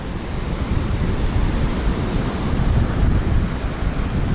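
Strong storm waves and wind on Tuapse beach make a loud, constant roar of crashing surf with heavy wind rumble on the microphone, steady and unbroken, with no voices.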